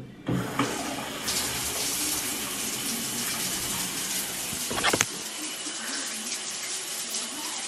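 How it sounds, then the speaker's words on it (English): Water pours steadily from a shower, a dense continuous hiss and splatter that starts abruptly and runs at constant loudness, with a brief thump partway through and no talking. "I'm gonna go shower"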